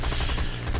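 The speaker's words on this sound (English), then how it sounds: "Blast him with these machine guns." A fighter plane's machine guns fire a loud, rapid burst at a Yak-1B during a War Thunder air battle. The pounding shots run together into one continuous rattle with no pauses.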